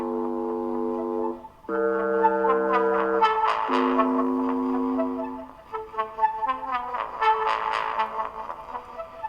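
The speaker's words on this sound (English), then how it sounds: "what you're hearing now is the Volca Keys playing a totally different sequence" A Korg Volca Keys synth runs a step sequence of bright, buzzy sustained chords that shift pitch in steps, then breaks into quicker stuttering notes, loud and upfront with no voices.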